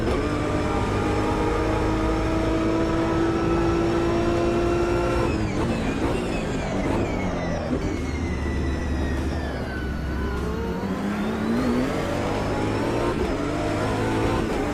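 A race car engine in the racing video game Project Motor Racing revs loudly and continuously, its pitch climbing and dropping through gear changes as the car accelerates and brakes, with no talk.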